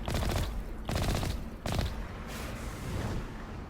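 Loud, close bursts of automatic gunfire in Mass Effect, three rapid volleys separated by short gaps, then a rougher sustained crackle of shots trailing off.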